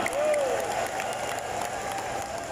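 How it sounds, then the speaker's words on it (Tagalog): A large crowd in a coliseum applauds a senator at a public event, giving a broad, sustained wash of clapping with crowd murmur and no break. "Isang malakas na palakpak para sa ating number 1 Senator, Mrs. Hannah Boy, Senator Cynthia Villar."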